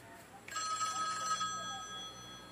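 A mobile phone with an incoming call gives a short electronic ringtone burst partway through, quiet and close, over a low room hum.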